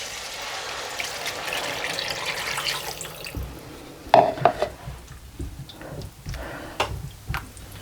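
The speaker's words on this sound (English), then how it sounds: "we're going to add 500 millilitres of water into this" 500 ml of water poured into a pan of tangy potato curry (khatte aloo) on a hob at medium heat: a steady rushing hiss for about three seconds, then a few sharp clinks and taps nearby.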